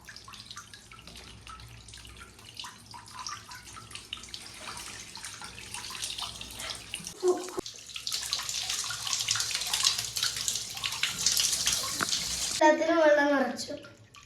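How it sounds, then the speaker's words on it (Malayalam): Tap water runs into a water balloon filler, a steady rushing stream that swells into a bright hiss and then gives way to splashing, with a voice heard near the end. "ഇത് നമുക്ക് ടാപ്പിന്റെ അടിയിൽ വെച്ച് കൊടുക്കാം"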